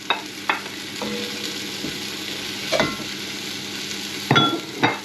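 Browned beef and its juices go back into a pot with bacon for beef bourguignon, sizzling steadily up close, with intermittent scraping stirs and clunks of a utensil against the pot.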